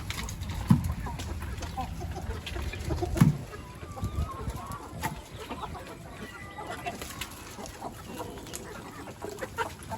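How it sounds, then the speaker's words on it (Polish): Chickens and a rooster cluck around a yard as food is thrown to them, scattered soft clucks and low bird chatter with a few louder rustles near the start, faint voices in the background. "I zaraz to dam tym kurczakom."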